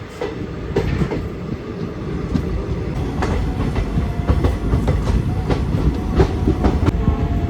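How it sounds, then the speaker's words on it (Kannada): A passenger train rolls into Vijayapura station, its heavy rumble steady and close, with rhythmic clickety-clack of wheels over rail joints running throughout. "ವಿಜಯಪುರ ಎಂಟ್ರಿ ಆಯ್ತು ನೋಡ್ರಿ ಟ್ರೈನ್."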